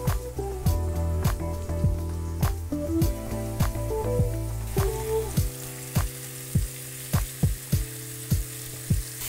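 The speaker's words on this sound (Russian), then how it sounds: "Обжариваем мясо буквально по 2 минуты на каждой стороне." Steady sizzling of veal and oyster mushrooms frying in a pan, with repeated clacks of a utensil tapping and turning the pieces at a regular pace.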